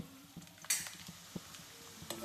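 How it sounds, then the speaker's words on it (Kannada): Chopped garlic frying in hot oil for paneer fried rice, a faint steady sizzle with a few clicks and scrapes of stirring, no voices. "ಇದು ಆಯಿಲ್ ಬಿಸಿ ಆಗಿದೆ. ಚಾಪ್ ಮಾಡಿರುವಂಥ ಗಾರ್ಲಿಕ್ ಹಾಕೋಬೇಕು."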